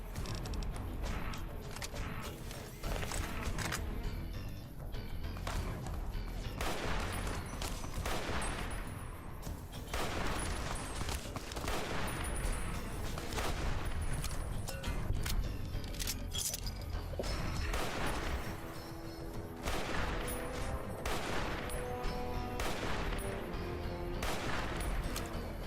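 Sniper rifle shots in a video game fire one after another over dense, loud game noise, with sharp cracks standing out against a busy backdrop.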